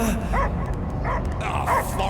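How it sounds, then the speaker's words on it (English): Dog barking in the video game Guardians of the Galaxy, a few short yips and bow-wows spread across the moment, heard over game sound and voices. "I hear only barking."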